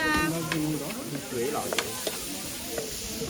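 Chopped onion frying and sizzling in a pan in a home kitchen, a steady hiss with small crackles and occasional stirring knocks, while a few people talk nearby.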